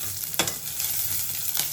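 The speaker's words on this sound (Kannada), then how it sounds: "ಸ್ವಲ್ಪ ಈರುಳ್ಳಿ ಹಾಕ್ಕೊಂಡು ಫ್ರೈ ಮಾಡ್ಕೊಳ್ಳಿ" Onion pieces frying in a pan for a vegetable dal sambar, a steady close sizzle with two sharp scraping stirs of a spoon, no voices.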